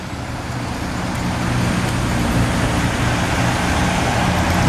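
Cars drive through an intersection at Sackville St and Bell Rd in Halifax, a continuous rolling roar of traffic swelling slightly as vehicles pass close, with no talking.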